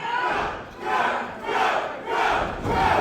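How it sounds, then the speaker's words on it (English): A wrestling crowd at an independent show in Pompano, Florida chants in loud rhythmic waves, four surging bursts rising and falling in a steady cadence that fills the arena. "The crowd chanting for Qrow."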